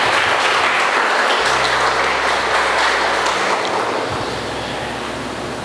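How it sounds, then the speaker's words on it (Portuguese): Congregation applauding during a church sermon, a dense continuous wash of clapping that fades gradually, with a low steady hum beneath. "Pode bater palmas ao Senhor"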